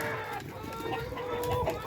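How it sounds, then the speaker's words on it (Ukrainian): Rooster and hen clucking close by amid a busy farmyard with steady background noise and faint voices. "О, ще один петух."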